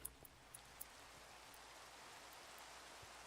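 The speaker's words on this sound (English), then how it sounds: "Ooh, it's raining." Steady, soft rain hiss in a video game, with a few faint drips and ticks near the start, no voices.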